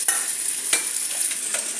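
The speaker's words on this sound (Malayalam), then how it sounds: "എന്നിട്ടിത് ഓരോന്നായി തിളച്ച എണ്ണയ്ക്കകത്തോട്ട് അങ്ങ് ഇട്ട് കൊടുക്കണം" Pieces dropped into boiling oil give a loud, steady, bright sizzle, close up, with brief crackling bursts and no speech.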